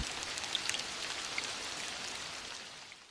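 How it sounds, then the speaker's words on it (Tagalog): Dense, steady hiss of rain pouring down, with occasional louder drops pattering nearby. "Malakas ang ulan."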